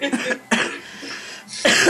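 Coughing, several sharp close bursts spaced across under two seconds, loud and without speech.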